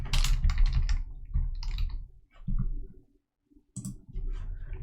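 Bursts of typing on a computer keyboard, quick clusters of clicks separated by short pauses and a brief silence, close and clear with no talking over it.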